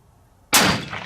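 A single loud, sharp gunshot from a Seekins Precision 6.5 Creedmoor rifle clamped in a test rest cracks out of near silence and then decays into a short rumbling tail.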